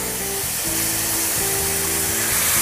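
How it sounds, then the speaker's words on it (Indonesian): Ground spice paste hitting hot oil for banana blossom gulai, a loud, dense hissing sizzle that runs continuously and close, with a low tonal hum beneath. "Minyaknya sudah panas, saya akan tumis dulu bumbu yang sudah dihaluskan."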